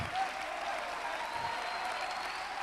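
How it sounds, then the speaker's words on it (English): Many hands clap across a church congregation, a faint, steady crowd patter heard from a distance. "Come on, I want to hear you clap."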